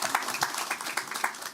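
Audience applause at a corporate sustainability report presentation before an exchange group, a steady, fairly soft wash of many hands clapping that continues evenly throughout.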